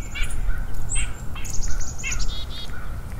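A white-breasted nuthatch gives a series of short, nasal, slightly scratchy calls, repeated several times in quick succession, close and clear over a low background hum of outdoor ambience.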